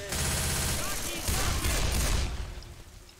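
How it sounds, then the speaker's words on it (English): Gunfire in Left 4 Dead 2 crackles in rapid bursts, loud and dense for about two seconds before thinning out and fading, with some talking mixed underneath. "why does my gun sound so far away?"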